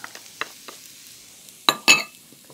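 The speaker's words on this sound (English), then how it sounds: "I've got some oil hot in the bottom of this pan, and to that I'm going to add some diced onion, celery," Diced onion, celery and carrot dropping into hot oil in a pan, with a faint crackle, a few soft taps, then two sharp loud sizzling bursts near the end.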